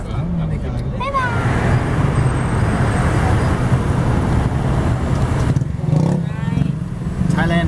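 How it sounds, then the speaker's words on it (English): Road traffic in Thailand, a steady loud roar of cars, buses and motorbikes with engines revving and passing close by, a continuous busy street din. "Thailand traffic."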